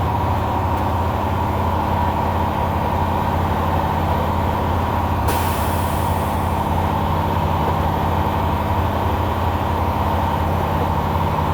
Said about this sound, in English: Did you hear that little sneeze the truck just did? That's called the governor cutoff.